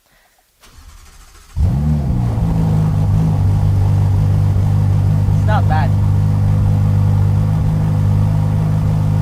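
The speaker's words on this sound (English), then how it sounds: "In our videos, we always start with a cold start, but this one has a stock exhaust system." A Ferrari F8 Tributo engine with stock exhaust cranks and fires up on a cold start, then settles into a steady, fairly mild idle rumble; a voice speaks briefly over it.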